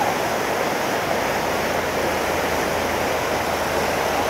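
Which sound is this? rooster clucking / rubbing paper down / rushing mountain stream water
rushing mountain stream water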